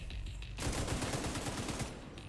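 Rapid automatic gunfire in the video game The Division 2, a loud continuous burst of closely spaced shots after a short quieter lead-in, tapering near the end.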